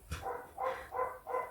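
An older dog lets out four evenly spaced, muffled barks in quick succession, fairly soft and somewhat distant, with no talk over them.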